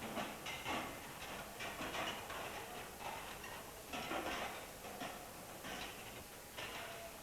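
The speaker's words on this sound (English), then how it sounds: "Then steam is forced into the water from below." Steam is forced from below into water inside a galvanized iron army vegetable-steaming tank, making a faint, continuous hissing rush with rhythmic pulsing surges throughout and no speech.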